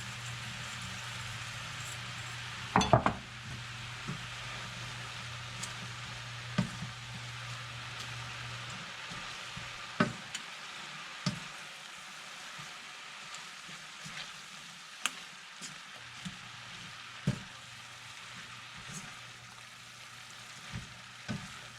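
Bok choy leaves fry in a little olive oil with salt in a pan, a faint, continuous soft sizzle with scattered small clicks and stirring knocks throughout.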